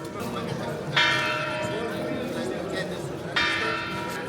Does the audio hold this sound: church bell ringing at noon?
yes